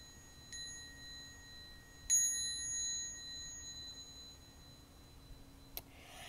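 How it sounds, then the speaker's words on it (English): A small bell rings a few times with clear, bright dings, each tone lingering briefly in an otherwise quiet room. "I want to ring this bell."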